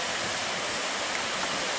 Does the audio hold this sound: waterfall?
yes